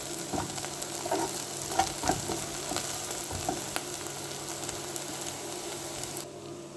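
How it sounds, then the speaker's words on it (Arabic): Onions frying in a couple of spoons of oil for sayadieh rice, a steady close sizzle broken by several light spoon taps and stirring scrapes, no voices. "وحطينا معلقتين زيت وبدأنا نحمر البصل"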